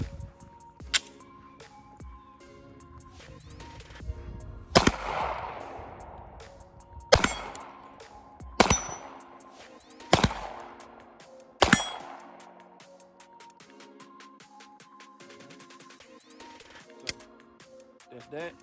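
Several sharp 9mm gunshots from a Walther PDP Compact pistol at an outdoor range, spaced a second or two apart, each with a ringing metallic tail, followed by quieter clanks and handling sounds.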